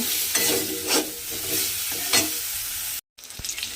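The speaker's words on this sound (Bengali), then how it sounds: "অল্প একটু নুন আর খুব সামান্য একটু হলুদ দিয়ে বেগুনটা আমি এইবারে একটু লাল করে ভেজে নেব।" Eggplant pieces frying in oil with a little salt and turmeric, a steady sizzle with repeated scraping stirs, then a brief silent cut before the sizzling resumes; no one talks.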